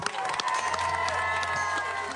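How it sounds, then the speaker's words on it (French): Audience applause and cheering fill the space, a steady dense wash of clapping from a crowd with a low hum underneath. "Sous vos applaudissements maintenant."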